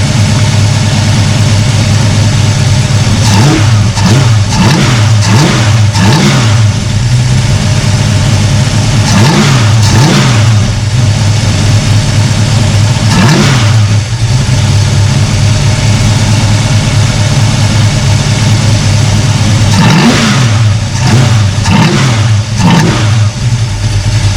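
A carburetor car engine revs up repeatedly in bursts, dropping back to a rough, steady idle between each rev, loud and close.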